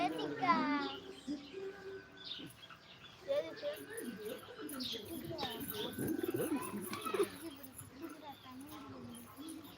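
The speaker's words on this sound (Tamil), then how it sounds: "ரெண்டு வெள்ளை புறா இருக்குல்ல" Two white pigeons coo softly in low, rolling calls beneath the chatter of children talking and playing close by.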